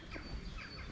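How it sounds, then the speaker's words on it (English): Faint bird chirps drift over a soft, steady outdoor background in spring in Castle Combe, England, a few brief calls spread across a quiet second. "So nice to hear all the birds chirping away."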